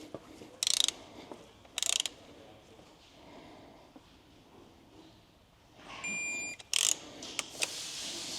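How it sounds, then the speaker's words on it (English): A torque wrench tightens the clutch cover bolts on a Beta dirt bike, set to 10 newton meters. It gives sharp ratcheting clicks in several short bursts with quiet pauses between them and faint handling noise around them. "we're going to go ahead and grab the torque wrench one more time"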